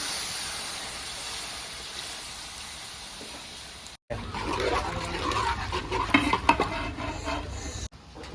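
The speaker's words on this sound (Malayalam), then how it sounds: "അപ്പോൾ ഇത് പുളിയിട്ട് പിഴിഞ്ഞ വെള്ളം കേട്ടോ പുളിയിട്ട വെള്ളം ആ വെള്ളം നമുക്ക് ഒഴിച്ചു കൊടുക്കാം" Tamarind water is poured into a simmering fish curry in a Kerala kitchen. A quiet, even hiss gives way after a brief gap to a louder bubbling, splashing sizzle as the liquid hits the pan.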